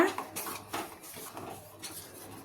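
A spoon stirs custard powder into sweetened milk in a metal pot, making soft, rhythmic scraping and clinking strokes at a quiet level.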